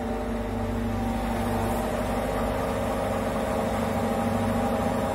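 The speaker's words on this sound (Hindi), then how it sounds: "आप नॉइज वगैरह भी देख सकते हैं 1200 आरपीएम पे किस तरह से होता है" Motorola front-load washing machine spinning at 1200 RPM gives off a steady, loud mechanical hum and rumble that holds even throughout, with no talking.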